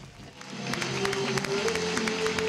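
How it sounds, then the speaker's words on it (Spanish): Long ovation as Feijóo and regional candidates arrive at the Partido Popular national headquarters: sustained, dense applause from a crowd, steady and fairly loud throughout, with a tonal sound rising partway through. "Larga ovación hoy a Feijóo y a los candidatos autonómicos a su llegada a la sede nacional del PP"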